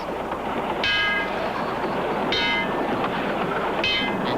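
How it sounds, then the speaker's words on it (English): Subway train sound effect from a cartoon: a continuous rumbling rail roar with three bright, squealing or horn-like bursts spaced evenly, loud and alone without talk. "And riding on subways."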